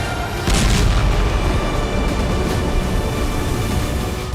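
Explosions over the dome of the Kremlin in Moscow produce a loud, sustained rumbling roar that surges in after a brief lull and holds heavy and close for several seconds.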